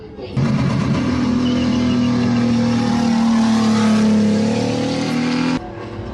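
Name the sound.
car doing spins, engine revving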